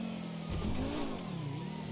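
A car engine approaching from behind in GTA 5, a mid-pitched motor revving with its tone rising and falling, fairly close and steady over two seconds.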